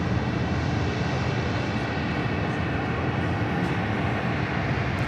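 Airliner engines roar at LAX airport near runway 25 right, a loud, continuous broadband rumble and whine that holds steady throughout.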